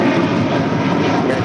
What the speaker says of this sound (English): Our next departure is Delta Airlines Flight 720 heading to Atlanta, Georgia